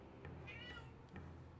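A house cat meows twice, a drawn-out meow followed by a shorter one, close by and clear over a low steady hum of background noise.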